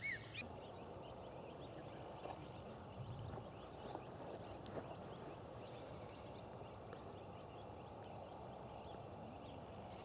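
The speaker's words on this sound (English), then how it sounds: "The birds are still singing" Faint, distant birdsong drifts in scattered chirps over a quiet outdoor background at dusk, with no talking.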